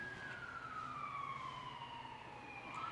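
An emergency vehicle siren passing outside, a faint wailing tone sliding slowly downward and then rising again, heard at a distance over steady background noise.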